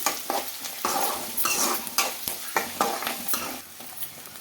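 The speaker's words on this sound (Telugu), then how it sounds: "ఇప్పుడైతే ఫ్రెష్గా దంచుకున్న అల్లం వెల్లుల్లి పేస్ట్ అయితే వేసుకోవాలండి పోయిన తర్వాత టమాటాలు అయితే వేసుకున్నాము" Tomatoes fry with freshly pounded ginger-garlic paste in a pan, giving a steady close sizzle broken by repeated stirring scrapes and clinks of a spoon against the pan.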